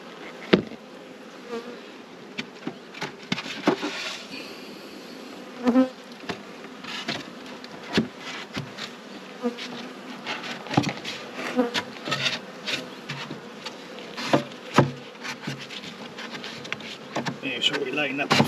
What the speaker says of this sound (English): I don't know if you saw that bee.